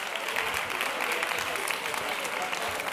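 Audience at an education conference in Madrid applauding, an even, continuous patter of many hands clapping at moderate level from start to finish.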